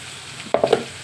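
Raw cashew curry ingredients, seasoned with salt and chili powder, fry in a pan: a soft sizzle, then three quick stirring scrapes close together near the end.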